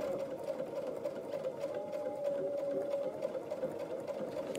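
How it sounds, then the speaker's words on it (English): A sewing machine runs a straight stitch in a steady, even mechanical whir at constant speed, close and uninterrupted, with no talking. "I'm just going to sew my straight stitch."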